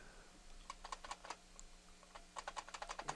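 Keys on a computer keyboard clack in two quick bursts of typing, faint and close, with a short pause between the runs and no voices.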